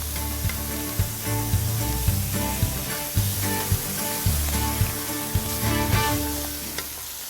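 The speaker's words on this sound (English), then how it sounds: "So we're gonna let this saute for a minute." Butter and wild boar meat sautéing in a pan, giving a steady loud sizzle with intermittent clinks and scrapes of stirring, with no talking.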